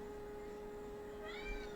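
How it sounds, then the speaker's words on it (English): A pet cat gives a single short meow near the end, rising over a steady background hum and constant room noise, fairly faint and brief. "Yeah, that's my cat, Good Gigi."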